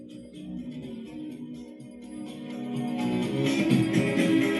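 Music plays from a boAt Stone 358 Bluetooth speaker, a continuous song with tonal notes that grows louder toward the end, with no talking.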